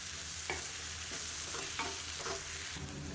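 Mashed potatoes being stirred into onion-free poori masala in a pan, with a spoon scraping and pushing through the mixture in repeated strokes over a soft steady sizzle, close and fairly quiet.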